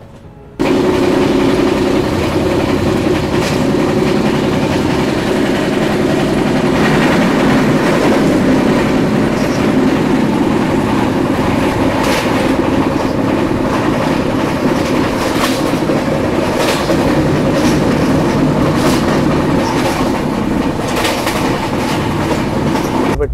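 The Arunachal AC Express runs steadily on its tracks, giving a loud, continuous rumble with periodic clickety-clack from the wheels for over twenty seconds and no talking.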